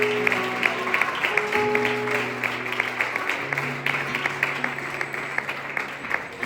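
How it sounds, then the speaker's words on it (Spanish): A church congregation claps during a sermon, a fairly quiet patter of applause running under sustained tones and a murmur of voices. "Aplauda al Señor en esta tarde."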